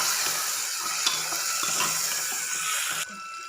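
Jackfruit curry frying in a pan with chilli powder is stirred, giving a steady close sizzle with soft scraping strokes throughout, then the hiss drops abruptly near the end.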